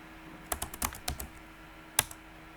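Quick bursts of close computer keyboard typing while a C++ program is written in a programming lesson, with a rapid run of keystrokes followed by a pause and one final sharp tap. No voices.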